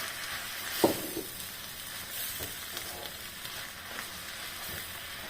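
Water poured into a hot frying pan hisses and sizzles, a sharp burst at first settling into steady, fairly quiet frying with faint stirring.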